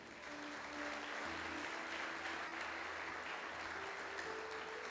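A church congregation applauds during a worship service, a fairly faint, continuous clatter of many hands lasting several seconds, with a low hum of music or sound system underneath.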